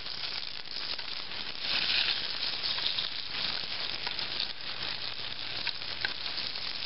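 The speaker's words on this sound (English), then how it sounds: "hopefully they'll be sizzling away" Mushrooms sizzle and crackle in hot oil in a pan on an outdoor wood stove burner, a continuous frying hiss with small pops, fairly close and with no talking.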